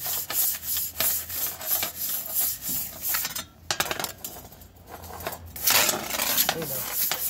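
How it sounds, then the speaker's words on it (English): Metal scraper rasping across commercial grill tops during cleaning, repeated close scraping strokes in an uneven rhythm with short pauses between passes. "Now we're just gonna scrape off our grill tops."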